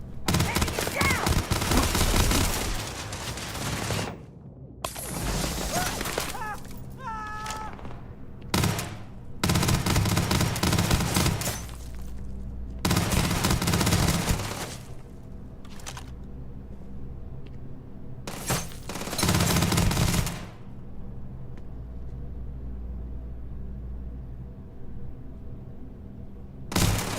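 Heavy gunfire erupts in long loud bursts of rapid shots, broken by brief pauses, with voices shouting between volleys.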